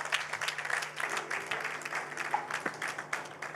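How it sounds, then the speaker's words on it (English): A steady round of applause from the audience at the launch of a young academy of sciences in Eswatini, a fairly faint, dense patter of many hands clapping with no voices over it. "Can we give Umguni a huge round of applause?"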